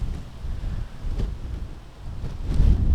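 Strong gusting wind buffets the microphone on a disc golf course during a pro tour round in Andalucia, a low rumbling roar that swells and fades in surges, loudest near the end, with no talk.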